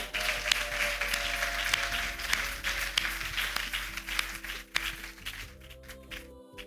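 A church congregation applauds Jesus at an Easter Sunday service, sustained clapping from a crowd with a few sharp claps standing out, tapering off near the end.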